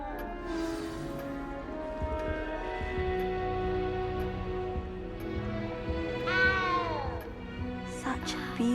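Cat meowing inside the Hogwarts castle setting of the video game Hogwarts Legacy, a drawn-out meow rising near the end over continuous game music and ambience.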